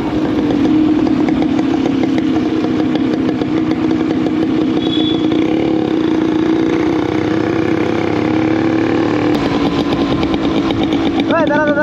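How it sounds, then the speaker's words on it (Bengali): Motorcycle ridden along a busy highway at modest speed, its engine holding a steady, close drone throughout with road noise, and voices faintly present. "আমি এমনি তো বেশি স্পিডে বাইক চালাতে পারবো না গাইস"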